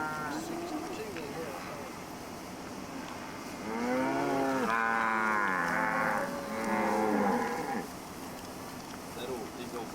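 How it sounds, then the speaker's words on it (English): Old black cows lowing in a New Mexico pasture, several loud drawn-out moos overlapping in the middle of the stretch over steady wind or engine rumble, fairly close. "these old black cows, black cows"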